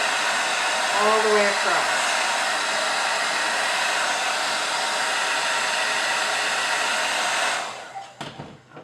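A hair dryer blows steady heat onto hair weft tape, a loud constant whooshing roar held for several seconds before cutting off, with a brief spoken remark near the start.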